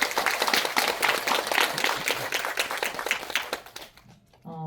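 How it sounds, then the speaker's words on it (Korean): Cinema audience applauding during a film screening talk at a Lotte Cinema hall, dense steady clapping from many hands that fades out near the end as a voice begins. "박수 한번 보내주세요."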